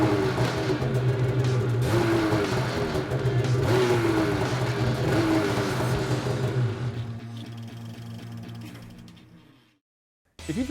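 A 2016 Polaris SKS snowmobile engine fitted with an aftermarket exhaust runs with a loud, steady drone and revs. It fades out gradually toward the end into brief silence before a short return.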